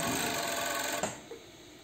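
A sewing machine stitches seams on a bikini bottom, giving a steady, close mechanical whir that cuts off about halfway through, followed by a couple of faint knocks.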